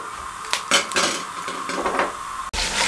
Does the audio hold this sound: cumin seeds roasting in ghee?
yes